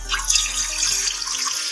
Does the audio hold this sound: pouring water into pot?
yes